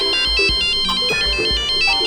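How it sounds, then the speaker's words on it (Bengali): A phone ringtone plays a repeating electronic melody, loud and close, while low thumping background music runs beneath it, with no talking. "ফোন কে করেছে?"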